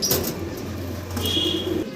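A single fancy pigeon at a Bangladeshi pigeon seller's shop coos in low, steady tones through two seconds, with a faint higher chirp partway through and shop background hum.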